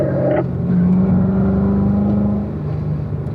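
A race car decelerating on the Spring Mountain circuit, its engine note dropping steadily as it slows toward a corner, loud and close with a continuous droning tone.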